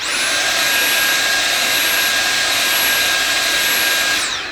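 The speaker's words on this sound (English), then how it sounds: "So you just get your vacuum cleaner and move it up and down." A loud, steady vacuum cleaner whine runs continuously at close range, with a high-pitched tone, as it cleans the filter of a Philips AC3033 air purifier, before beginning to wind down at the end.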